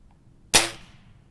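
A single sharp crack from a Weihrauch HW97K air rifle, close and loud, with a quick decaying tail into quiet background.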